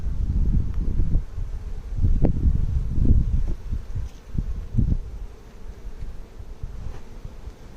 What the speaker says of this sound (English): some of the guard bees are coming out and saying hello.